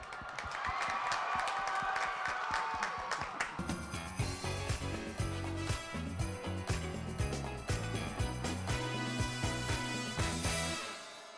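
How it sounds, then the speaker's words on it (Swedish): A studio audience on a Swedish Christmas calendar show gives a dense, steady round of applause for a few seconds before bright, tinkling festive music takes over and plays to the end. "jag tycker att de förtjänar en stor applåd"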